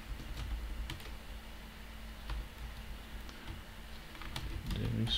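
Rapid clicking of a computer keyboard as code is typed, steady close taps over a soft background hiss, no talking.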